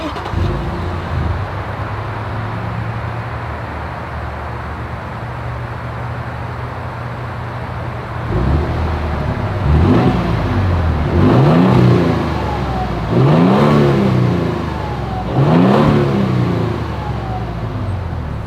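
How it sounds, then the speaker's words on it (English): A 2022 Toyota Tundra Limited idles steadily, then its exhaust note surges through several loud revving blips in a row, each rising and falling, recorded close by. "As always, here is that exhaust clip."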